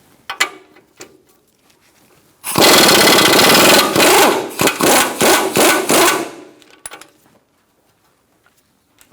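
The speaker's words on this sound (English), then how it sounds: "Next, I'm going to use a 21mm socket and take off" A power tool with a 21mm socket works the outer tie rod nut on a 2007–2017 Ford Expedition, loud and close, hammering for about three and a half seconds in choppy bursts. Quieter clicks and clanks come before and after it, with no talking.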